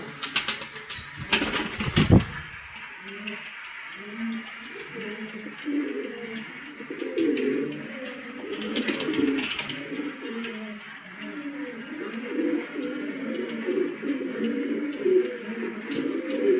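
Pigeons at a Bangladeshi breeder's pigeon sale coo in steady, overlapping rolling phrases throughout, with a couple of brief wing flaps or knocks near the start.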